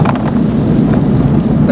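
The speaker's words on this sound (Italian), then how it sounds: "Continua a piovere" Heavy rain drums steadily on a vehicle driving the unpaved Dempster Highway, a dense, continuous wash of patter over low road rumble with no pauses.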